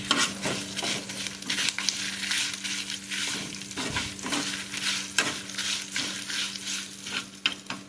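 Batate gasi, a potato curry, fries in a pan with frequent stirring. Close scraping and clinking strokes beat a rhythm over a constant crackling sizzle.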